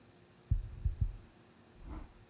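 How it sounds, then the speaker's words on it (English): Heartbeat sound effect from the video game Strange Horticulture: three low thuds close together, then a softer swell, all faint against a quiet background. "Why do I hear a heartbeat every once in a while?"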